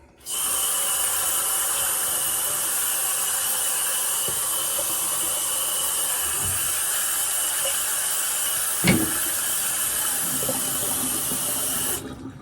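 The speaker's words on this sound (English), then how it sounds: "I'm going to rinse the face here real quick." A tap runs steadily into a sink while a man rinses his face after a shave with shaving soap, a constant close hiss with faint splashes and one brief louder splash near the end, no speech.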